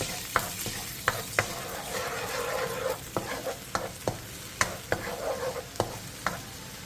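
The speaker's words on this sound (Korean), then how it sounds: "팬에 기름을 두른 뒤 진간장 2스푼, 소주 2스푼, 물엿 1스푼, 설탕 반스푼, 다진 마늘 반스푼을 넣고 센 불에서 끓여주세요." Close, lively sizzling as a soy sauce seasoning with soju, corn syrup, sugar and minced garlic boils in an oiled pan over high heat, with regular scraping stirs and utensil clicks throughout.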